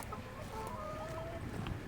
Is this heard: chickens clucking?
yes